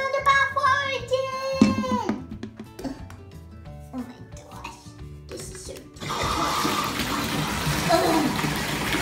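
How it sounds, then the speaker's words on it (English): Bath water runs from a tap into a bathtub, a steady loud rush starting partway through after several moments of children's voices and household sounds. "Let's turn the bath water again."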